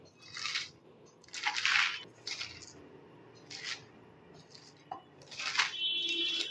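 Shredded cabbage for pakora is squeezed and mixed by hand, giving soft, wet squelching crunches in irregular bursts, close and fairly quiet.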